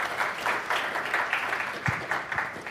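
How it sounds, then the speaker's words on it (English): Audience applause at the close of a conference talk on VLC 4.0, a room of listeners clapping in a moderately loud, uneven patter with a few sharper hand claps standing out. "Round of applause,"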